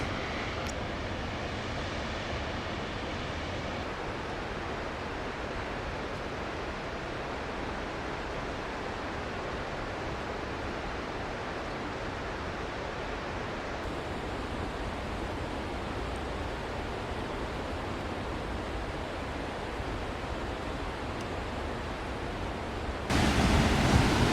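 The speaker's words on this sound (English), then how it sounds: "Gorgeous waterfall that is created from the outlet of Shadow Lake." Waterfall pouring from the outlet of Shadow Lake in the Eastern Sierra, a steady, dense roar of rushing water that holds constant throughout, close and fairly loud, swelling slightly near the end.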